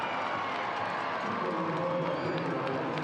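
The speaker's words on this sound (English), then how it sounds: "Crowd's going crazy" A soccer stadium crowd cheers and roars as a shot goes wide in a Colorado Springs Switchbacks FC versus Monterey Bay F.C. match, a dense distant wash of voices that builds slightly.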